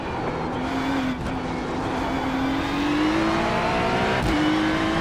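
A Ferrari race car in the iRacing sim at Zolder holds a loud, continuous engine drone, its pitch slowly rising and then dipping sharply near the end as if shifting gear, with no voices over it.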